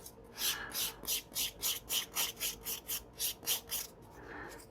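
A polygel nail overlay on gel-x tips has its edge filed, making about a dozen quick, even rasping strokes in a steady back-and-forth rhythm, close and fairly quiet, with no talking.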